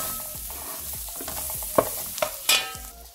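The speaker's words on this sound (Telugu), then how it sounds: "దీన్ని ఒకసారి బాగా కలుపుకోవాలి." Garam masala is stirred into a sizzling pan of mushroom tikka masala, a spoon scraping in a steady rhythm over constant frying with a few louder clinks near the end.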